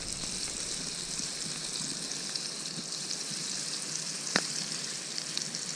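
Flour-dredged whole quail fry in a pan with a steady, close hiss of hot oil. A single sharper pop stands out near the end, and no one talks.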